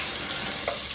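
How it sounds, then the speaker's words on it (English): Bacon sizzles in a hot pan as it fries for a dish of lentils, rice and meat: a continuous loud hiss with no voices. "So there goes the bacon."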